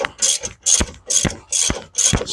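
Ratchet loosening strut bolts on a 2008 Toyota Highlander front suspension, close and loud, with five rapid bursts of clicking pawl strokes repeating at a steady rhythm and brief pauses between swings.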